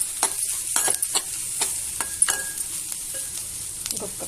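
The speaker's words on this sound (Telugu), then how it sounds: "ఇంకొక 2 minutes ఫ్రై చేద్దాం" Hyacinth beans (goruchikkudu) with dry coconut powder, garlic-chili powder and salt fry in a pan, giving a soft continuous sizzle broken by irregular scraping and tapping as the spatula stirs, with no voices.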